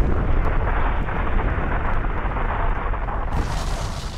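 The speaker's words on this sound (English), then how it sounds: "Theia was destroyed in the collision." A deep, thunderous roar depicts the planetary collision of Theia with the early Earth, a loud sustained rumbling blast that holds steady for several seconds and brightens near the end.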